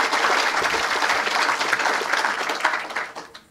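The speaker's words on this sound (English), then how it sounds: "let's have a special round of applause for our friends at UNC Chapel Hill" An audience applauds guests at a ceremony for the opening of a marine sciences and conservation genetics center, with dense, steady clapping that carries on for a few seconds before fading at the end, and no speech over it.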